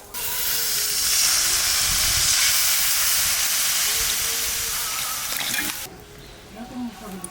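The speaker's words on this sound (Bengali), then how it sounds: "মশলাটা ভালো করে কষিয়ে নিয়েছি, এখন জল দিয়ে দেবো।" Water poured into a pan of spice masala cooked down with sour yogurt sets off a loud, steady sizzle and hiss that fades and cuts out, leaving softer bubbling and stirring.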